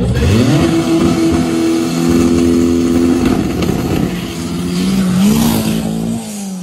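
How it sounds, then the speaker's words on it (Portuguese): A 500 hp Volkswagen Beetle race car roars loudly and close as its engine revs hard under acceleration for a wheelie, the pitch climbing and holding, then dipping and rising again before the sound eases off at the end. "vou colocar um trecho do Fuca, desse Fuca aqui empinando"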